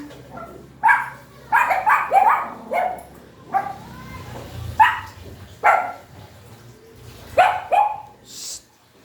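A dog barks in repeated sharp bursts, close and loud, with some yips and a whimpering note near the end.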